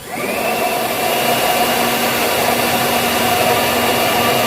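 Air blower running steadily during an oil change on a Toyota Innova, a loud continuous whooshing roar with a faint whine, starting abruptly and holding constant with no talk.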